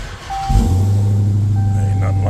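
A Dodge Demon engine fires up with a burst, then settles into a loud, steady, deep rumble that holds at a constant idle, with a faint tonal beep over it.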